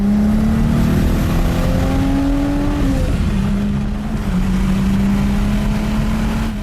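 A Renault Alpine's 2.5-litre turbo V6 driving with the roof down: a loud, steady engine drone whose pitch dips briefly midway, then settles and holds, with no voices.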